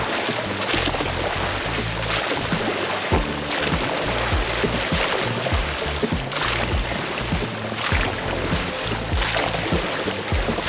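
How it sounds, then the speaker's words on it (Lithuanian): Rowing boat at sea with oars dipping into the water, repeated splashes and knocks of oars in steady strokes over constant wind and water noise, fairly close. "Kartu krenta irklą į vandenį"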